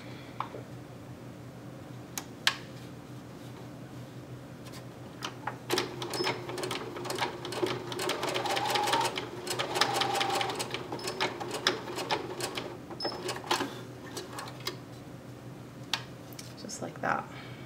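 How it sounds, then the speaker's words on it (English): Sewing machine stitching a quarter-inch back ankle seam on a doll-sized slouch boot, a fast rattling run of needle strokes that swells in the middle and trails off, with a few sharp clicks around it. "First thing we're going to do is sew up the back seam, the ankle seam here."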